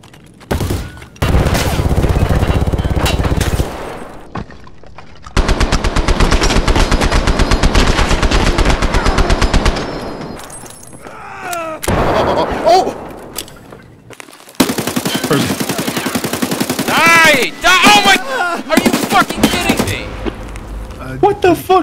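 Machine gun fire from a video game comes in long, rapid, loud bursts separated by short gaps. Excited shouting and talk run over and between the bursts.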